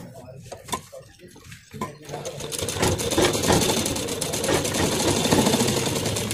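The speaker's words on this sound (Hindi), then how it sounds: "अब हमें क्या करना है, इसी के ऊपर सिलाई लगा लेनी है" A sewing machine stitches a second seam over cloth for homemade warm shoes and socks; after a few light clicks it runs in a steady, rapid ticking whir, close and moderately quiet.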